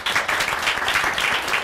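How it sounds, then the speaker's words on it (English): Brief, steady applause from an audience at a Red Hat Enterprise Linux security technologies talk, dense clapping held at an even level for under two seconds. "I'm glad people are clapping for that rather than booing"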